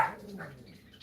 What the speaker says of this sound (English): You know my yapper dogs.